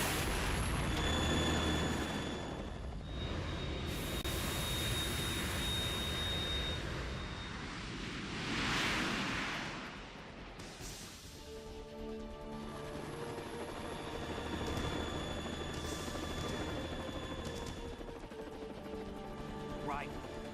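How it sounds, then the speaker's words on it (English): Harrier jet in the Metal Gear Solid 2 video game, a loud roaring engine whine with shifting tones and surges, underneath game music, effects and spoken dialogue. "You have to shoot the Harrier down."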